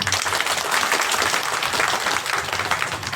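An audience at a protest dharna against a fireworks ban in Maradu claps together in a dense, sustained burst that stays loud and even throughout, with no voices rising above it.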